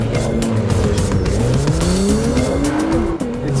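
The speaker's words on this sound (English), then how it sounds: "ACURA NSX. This is one of the most anticipated cars of the year" A 2017 Acura NSX twin-turbocharged sports car drives hard, its engine note rising and sliding in pitch with tire squeal mixed in, loud and close for the whole stretch.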